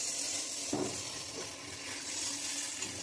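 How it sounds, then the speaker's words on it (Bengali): Water poured into sizzling fried spice paste in a pan: a continuous hissing sizzle with a brief splash near the start, close and steady throughout. "এখন পরিমাণ মতন জল দিয়ে দেবো"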